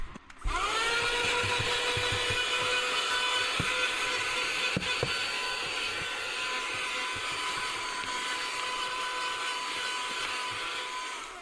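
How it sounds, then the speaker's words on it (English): A small vacuum cleaner whirs steadily with a high, even motor whine inside a 2024 Nissan Z, running close and continuously after a brief start, with faint scraping and knocks underneath. "I might as well get my little vacuum cleaner while we're here."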